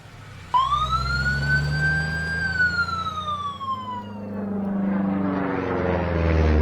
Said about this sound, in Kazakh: Ұшақ.